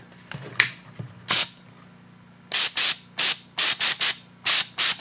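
A pressurized IK Foam Pro 2 foam sprayer vents air in a series of sharp, loud hissing bursts, a few scattered at first, then a quick run of short releases separated by brief pauses.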